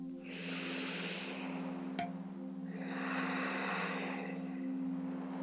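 Slow breathing during a hatha yoga strength hold: a long exhale, a brief pause with a small click, then a second drawn-out breath, close and steady over a low constant hum.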